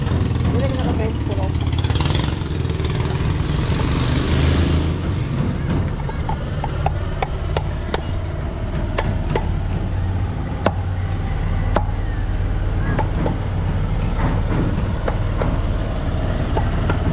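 A Honda engine runs on a boat during a sea trial, a steady loud low drone with choppy texture, steady throughout, while people talk nearby over it.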